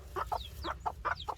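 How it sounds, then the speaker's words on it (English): A rooster and hens clucking inside a backyard chicken coop, a quick series of about six close, clipped clucks in an uneven rhythm over faint low background hum. "our rooster is right here in front"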